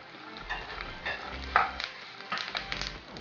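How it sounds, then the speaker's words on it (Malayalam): Nuts and raisins fry in hot fat for moong dal payasam, a Kerala sweet, with a soft, steady sizzle broken by light stirring bumps and scrapes in the pan, fairly quiet and close. "ഇപ്പം നമ്മുടെ നട്ട്സും മുളക് മുന്തിരിയൊക്കെ മൂത്ത് വന്നിട്ടുണ്ട്."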